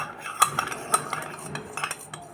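Utensil clinking and scraping against a bowl while whisking buttermilk ingredients until they turn white, with irregular light metallic taps close by and no talk.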